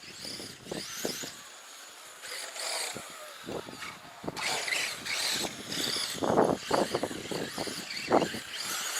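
A Scorpion vehicle lapping a small improvised circuit, its engine rising and falling in repeated passes with bursts of revving over steady background noise, moderately close.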